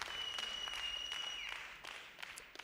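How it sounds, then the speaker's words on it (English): Faint applause from a small group, brief scattered clapping lasting a couple of seconds and thinning out toward the end, with a faint steady tone running underneath. "I'm so annoyed with my applauses. I want a longer one."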